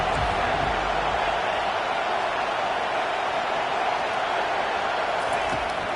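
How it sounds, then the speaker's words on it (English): Stadium crowd noise from a Penn State vs. Iowa football video game, a steady loud roar of cheering on third down that holds evenly throughout without any talk over it. "Decibels rising as the crowd gets behind this defense on third down."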